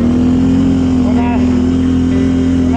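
A Can-Am Renegade ATV engine drones loud and steady at high revs in an off-road setting, a constant close motor hum with a brief shift in pitch midway.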